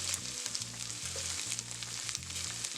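Corn kernels sizzle steadily in a hot pan as they caramelize for a Mexican street-food corn bowl. The frying is loud and close, with a faint low hum pulsing underneath and no talk.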